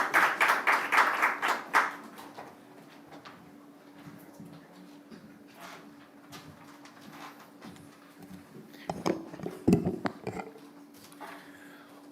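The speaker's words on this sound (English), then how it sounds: "A round of applause for him, please." An audience claps at the commissioning ceremony of a Zenith Bank branch in Manchester, with a loud burst of applause over the first two seconds, then quieter scattered claps and a short second flurry around nine to ten seconds.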